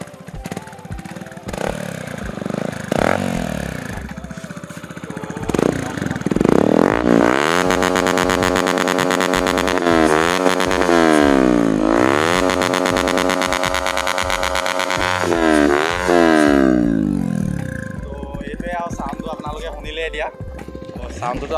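A Yamaha MT-15 motorcycle with a modified exhaust idles, then revs repeatedly. The engine note climbs and falls in loud, raspy sweeps before settling back to idle, with someone talking over parts of it.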